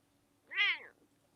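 A domestic house cat gives one clear, close meow, rising then falling over about half a second and standing alone against a quiet room.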